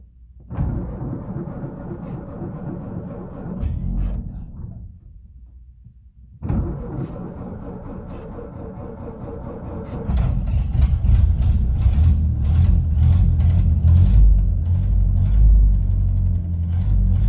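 A 1931 Ford Model A Coupe just out of storage cranks in two rhythmic bursts separated by a pause, then catches and runs with a loud, rough, low rumble.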